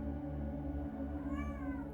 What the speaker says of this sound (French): Je vais répondre à mon chat qui me parle